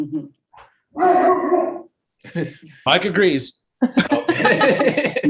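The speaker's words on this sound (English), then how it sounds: "if you hear our dogs barking" House dogs bark in short bursts mixed in with people talking in a home conversation, the barks and voices alternating and overlapping at close range.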